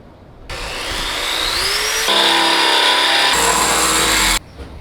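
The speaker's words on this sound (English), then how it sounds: "we're gonna now drill a small hole and drill a big hole" A drill bores holes into a metal bash bar during fabrication, a loud steady whine and grind that shifts pitch partway through, running continuously for several seconds before cutting off.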